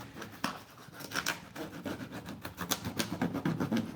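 Rough, rhythmic rasping strokes of a saw cutting through cardboard, close up, repeating irregularly with scratchy bursts and no talking.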